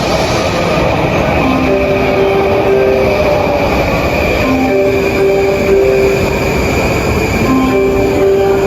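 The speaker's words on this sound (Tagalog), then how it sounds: "Sasakay tayo nung Enoden Line, yun yung picture perfect na train." An Enoden Line train runs through Kamakura, loud and close, with a steady rumbling roll and recurring high wheel squeals throughout.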